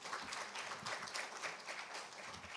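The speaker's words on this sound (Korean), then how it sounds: "발제를 해주신 우리 세 분의 우리 발제님들께 큰 박수 부탁드리겠습니다" Quiet, steady applause from an audience at a sustainability and ESG management forum, continuous clapping heard from a distance at low level.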